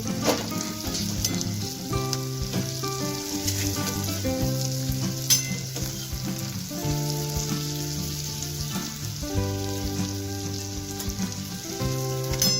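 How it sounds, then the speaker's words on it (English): Fresh flat green beans sizzle and crackle steadily while being stir-fried in a hot pan, with occasional scraping and stirring clatter throughout. "fresh green beans requires 5 to 8 minutes of continuous stir frying to reach the ideal"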